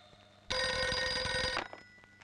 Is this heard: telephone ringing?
yes